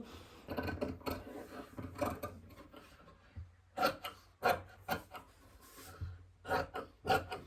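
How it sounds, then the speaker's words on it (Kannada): Scissors cutting school uniform top fabric to shape on a table, giving a run of short rasping snips and rubbing sounds in bursts, fairly close and moderately quiet, with no talking. "ಇದನ್ನು ಈ ಥರ ಒಂದು ಸೇಪಲ್ಲಿ ಕಟ್ ಮಾಡ್ಕೋಬೇಕು"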